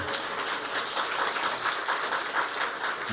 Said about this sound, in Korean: 너네 왜 앉아서 박수 받냐?